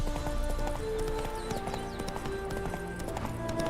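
A horse's hooves clip-clopping in The Witcher video game, a steady rhythmic trot heard over soft in-game music and ambience.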